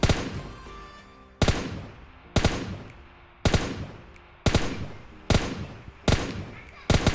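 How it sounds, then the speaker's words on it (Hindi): Seven sharp single gunshots from an M4 rifle in a battle-royale video game, loud and close, spaced roughly a second apart, each with a short decaying echo tail. "जिसको कि हम M4 के सिंगल टैप से नॉक कर देते हैं"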